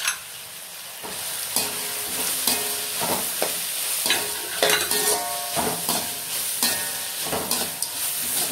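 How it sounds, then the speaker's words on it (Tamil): Carrot, green beans and peas sautéing in a pan for egg semiya pulao, a steady sizzle with a spoon scraping and stirring at a regular pace, close and continuous, no talk. "ஒரு 5 நிமிஷம் நல்லா வதக்கணும்."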